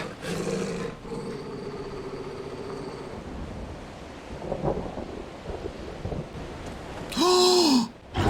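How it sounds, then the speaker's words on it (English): A behemoth roars in the video game Final Fantasy XVI amid a stormy scene, a loud bellowing growl that rises and falls near the end after a long stretch of wind and rumbling thunder. "It's a behemoth. That's a behemoth."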